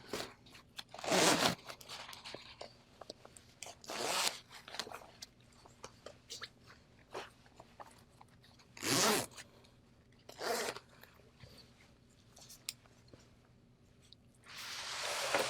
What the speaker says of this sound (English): We'll verify operability of entry leg zippers.